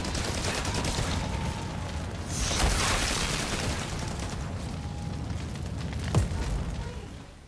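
Grenade explosions in Outriders, with heavy booms and a broad rushing blast in the middle and a sharp detonation later, all over continuous gunfire and combat noise.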